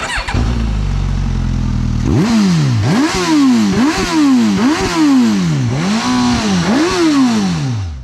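A Suzuki GSX-S1000 sport motorcycle engine idles briefly, then revs repeatedly in quick bursts, each rising and falling sharply, loud and close.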